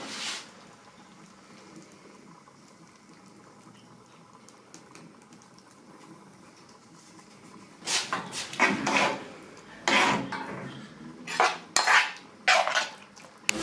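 A spoon stirs sauce with prawns and mushrooms in a pan, bringing irregular metallic scrapes and clinks in the second half after a quiet, low simmering stretch, all close up.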